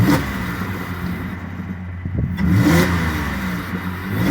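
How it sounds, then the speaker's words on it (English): A 2005 Cadillac STS with a V6 engine revs a couple of times while parked, the engine note rising and swelling close by over a steady idle rumble, with no talking. "Go ahead and do a couple revs here"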